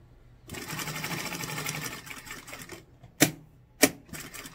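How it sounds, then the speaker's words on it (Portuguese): Sewing machine stitching a fabric strap for a rounded zip pouch: a sustained fast mechanical rattle for about two seconds, then two sharp isolated clacks, close and fairly loud, with no talking. "Vou costurar o meu tirante aqui e vou reservar ele."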